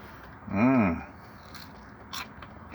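A single crisp bite into a crunchy air-fried potato chip, brief and close, followed by quiet background with faint small noises.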